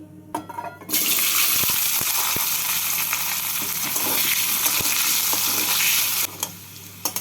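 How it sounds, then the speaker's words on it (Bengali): Potatoes fry in hot salted oil, a dense steady sizzle that starts abruptly and holds loud and close for about five seconds before cutting off. "এবার এই তেলের মধ্যে প্রথমে আলুগুলোকে ভেজে তুলে নিচ্ছি"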